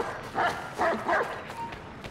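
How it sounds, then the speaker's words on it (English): Dogs bark in the Assassin's Creed 3 video game, a few quick, moderately loud woofs in a row, close by. "Forgot about the damn dogs."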